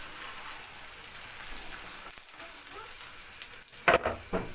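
Aloo paratha frying in ghee on a hot griddle, a steady close crackle and sizzle with sharper spits and pops toward the end, and no one talking over it.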